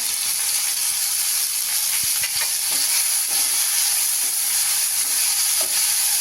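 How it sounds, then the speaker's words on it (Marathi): Chopped tomatoes and a small onion, sliced lengthwise, sautéing in a pan, giving a steady loud sizzle with occasional scrapes and clicks of stirring throughout, no voices. "दोन मोठे टमॅटो ते चिरून घेतलेले आहेत आणि एक लहान कांदा तोही असा उभा कापून घेतलेला आहे तोही यावर आपल्याला परतून घ्यायचा आहे"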